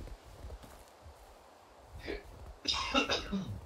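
A couple of rough coughs burst out near the end, following a quieter stretch of low background noise.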